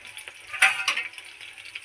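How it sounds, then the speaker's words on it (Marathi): Chopped ginger and garlic dropped into hot oil, a soft crackling sizzle with a brief louder burst of spitting, close by with no talk. "तेल तापलं, त्याच्यामध्ये टाकले मी अद्रक लसूणची जे कापून घेतलेलं होतं ना मी"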